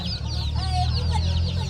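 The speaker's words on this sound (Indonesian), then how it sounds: "banyak anak ayam ini" Chicks and grown chickens clucking and peeping together in a cluster, offered for sale outside a church building during a Toraja church dedication event in Rantepao; steady close chatter of several birds over a low crowd hum.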